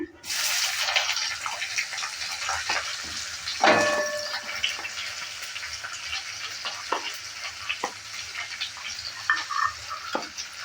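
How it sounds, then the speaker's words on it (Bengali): Chopped onion and a few garlic cloves hit hot oil with dried chilli for jute leaf fry, starting with a loud sizzle that settles into a steady crackle with occasional clinks and stirring scrapes. "এবার দিয়ে দিচ্ছি একটা মিডিয়াম সাইজের পেঁয়াজ নিয়েছিলাম আর কুচি করে কেটে নিয়েছি আর নিয়েছি কয়েকটা রসুনের কোয়া"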